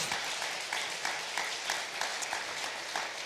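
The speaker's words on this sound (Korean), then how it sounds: "우리 성도님들께 먼저 감사의 박수 드리고 싶습니다." Church congregation applauding during a Sunday worship service, a sustained round of many hands clapping with a steady, even texture that continues throughout.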